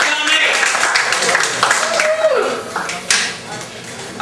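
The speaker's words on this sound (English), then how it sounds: "Give yourselves a big round of applause" A comedy club crowd at the Ice House in Pasadena claps through the whole stretch, fairly loud and close, with a voice speaking over the applause.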